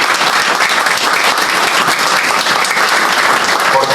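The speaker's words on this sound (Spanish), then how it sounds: "pido un fuerte aplauso para el gremio educativo" Loud, dense applause from a congress audience honoring educators at a historiography gathering in a parish hall, continuous clapping throughout.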